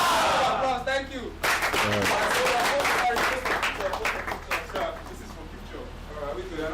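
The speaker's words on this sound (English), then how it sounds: "Applause, thank you." Group clapping and cheering at a youth bootcamp event in Africa, a loud shouted voice at the start, then a burst of applause that fades over several seconds while people talk and call out.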